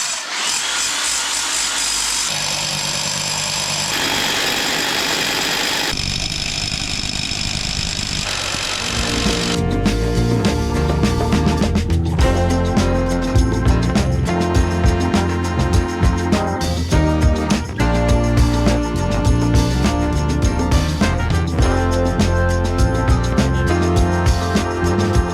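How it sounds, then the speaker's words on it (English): A drill with a very long bit boring into wood at close range, a continuous loud grinding and rumbling that grows rougher and more uneven as it bites deeper. "drill a hole using this monster of a drill bit"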